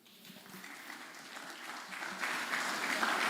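A crowd at a career expo launch claps, starting faint and building steadily louder into sustained applause with no talking over it.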